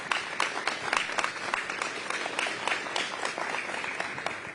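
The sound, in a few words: audience applause for sponsors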